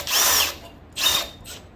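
A power drill bores a 1/2 inch hole in a ShopSmith part, running in two loud bursts with a shorter third spurt after a pause.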